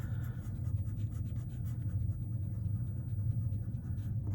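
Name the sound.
pencil lines being erased on paper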